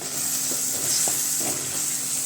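Masala with turmeric stirred in a pan for fish curry, giving a steady soft sizzle with a few light scrapes of the spoon against the pan.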